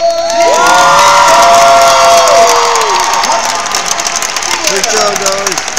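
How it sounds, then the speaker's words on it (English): A crowd cheers and applauds at a FIRST Robotics competition event, loud and continuous, with whoops and shouts rising over the clapping throughout. "we're going to need a round of applause for our number one ranked team here in the St. Louis region"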